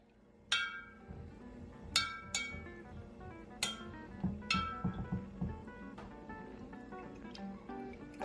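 Spoon stirring kombucha in a glass container, sharp ringing clinks against the glass at irregular intervals, about a dozen strikes over several seconds, close and quiet with no talking.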